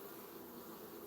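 Honeybees swarming around an open hive box during an inspection make a dense, continuous buzzing drone, steady and fairly close throughout.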